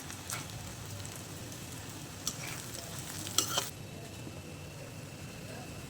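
Eight to ten dried red chillies fry in a pan for a dried chapila fish bharta, a steady quiet sizzle with a few brief spoon scrapes and clinks, no talking.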